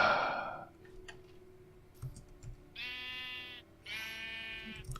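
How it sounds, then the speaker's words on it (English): Sheep in the survival crafting game TerraFirmaCraft bleat twice in drawn-out, wavering calls, fairly loud and close, after a short burst of other game noise. "sheep."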